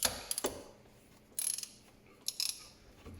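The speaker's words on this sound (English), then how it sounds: "just crack those bolts loose one at a time" Ratcheting clicks from a T30 Torx wrench cracking loose the pinion cover bolts on a Polaris Sportsman 850 ATV, in short separate bursts with quiet gaps between them.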